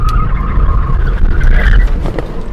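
A Mercedes-Benz 300CE engine revs hard and loud on a canyon road, with a rising whine and a rough, sliding scrub of tires on the road throughout.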